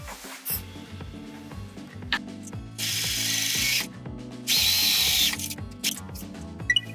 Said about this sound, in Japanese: 同じように反対側も縫っていきます。